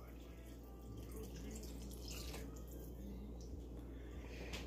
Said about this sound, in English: Then we're gonna add 1 cup of water.